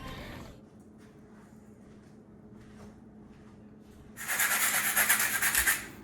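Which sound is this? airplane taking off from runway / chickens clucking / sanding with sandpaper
sanding with sandpaper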